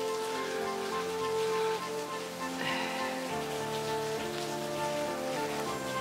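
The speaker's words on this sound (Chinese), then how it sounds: "下这么大雨，你上哪儿去啊？" Heavy rain pours down steadily, a dense broadband hiss of drops on surfaces that stays even and fairly close throughout, with a low tonal drama underscore running beneath it.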